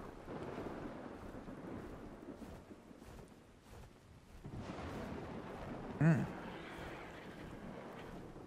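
A lightning storm in the video game Ark Survival Ascended, with low rolling thunder and rain, moderately quiet, and a sharper crack of thunder near the end.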